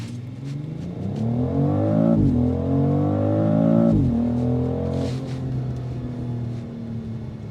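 A 2026 BMW X3 M50 pulls hard under boost, its engine note climbing steadily through two quick gear changes with short dips, then holding a strong, close drone.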